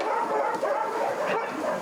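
Dogs at an animal shelter bark and yip in a dense, continuous, overlapping chorus, moderately loud and reverberant, with no talking.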